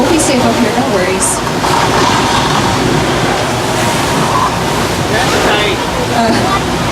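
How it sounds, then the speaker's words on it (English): A staged flash flood effect on the Universal Studios Hollywood backlot tram tour, a steady loud roar of rushing, crashing water that never lets up, with a voice and crowd noise faintly buried underneath. "Guys, watch out, flash flood!"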